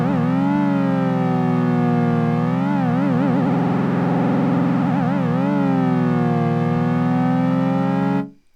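Buzzy Logic ES2 synthesizer tone whose pitch bends slowly up and down under a slowed LFO, holding loud and steady, wavering into faster wobbles midway, then fading out.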